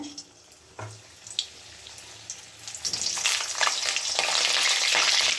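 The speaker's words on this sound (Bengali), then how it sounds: "পটলগুলো সব দিয়ে দিয়েছি। এখন ভেজে নিই।" Pointed gourds dropped into hot oil, a few knocks and clatters giving way to a loud, spreading sizzle that builds and holds near the end.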